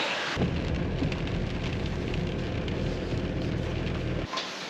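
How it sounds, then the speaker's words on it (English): Heavy rain from a thunderstorm pours down over a farm, a steady, dense hiss of downpour that starts abruptly, holds evenly and cuts off shortly before the end. "The rains are here! The rains are coming!"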